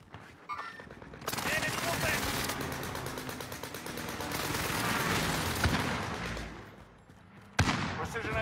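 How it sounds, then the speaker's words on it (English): Precision airstrike in the video game Warzone Resurgence: a loud, sustained barrage of rapid explosive blasts rolling for several seconds, easing off near the end before one sharp final impact. "Here's the target for airstrike"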